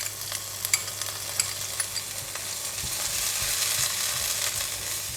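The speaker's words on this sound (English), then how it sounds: "This time I'm going to put in a little bit of oil, and we're going to put in the vegetable." Vegetables hitting hot oil in a pan during fried rice cooking, a steady close sizzle that swells and thickens after the first few seconds, dotted with light clicks and spoon taps, no voices.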